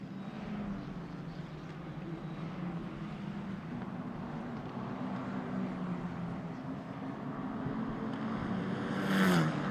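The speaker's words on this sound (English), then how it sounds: "Just goes through in the foreground in 73, ahead of Maxime Rem in the 71 car" An Italian F4 Championship single-seater races past at Misano, its engine a steady loud drone over broadband track noise that swells and rises in pitch near the end as the car closes on the trackside microphone.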